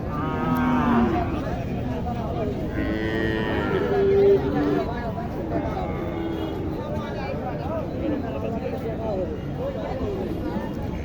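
Sahiwal bulls and calves low at the Matazi cattle market in Naogaon district, their deep moos rising over the steady chatter of a crowd while people talk close by.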